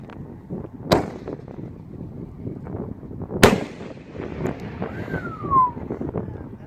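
Canister banger firework shells from a Six Zombie Revenge set burst outdoors, two sharp loud bangs a few seconds apart, each followed by a rolling echo, with wind noise and a faint whistle between them.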